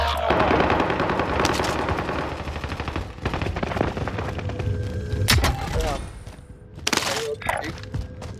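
Call of Duty: Modern Warfare gameplay with heavy automatic gunfire and bursts, sharp loud shots, glass-like cracks and booms packed close together, as a player talks over the action.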